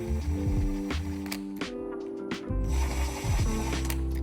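Ratcheting clicks from a hand wrench snugging the detent spring bolts on a K-Series transmission, a few rapid bursts of pawl clicks with short pauses between, close and clear with no talk.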